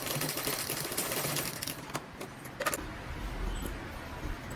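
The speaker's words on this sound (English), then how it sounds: "So now I'll just go back and sew from the top" A sewing machine stitches a zipper fly onto a pair of trousers in a steady, close-up mechanical whir with a rapid clattering pulse and a few brief ticks, with no one talking.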